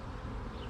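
Honey bees buzz steadily around a mating nuc box during hive splits, a dense, continuous hum held close and even, with no voices over it.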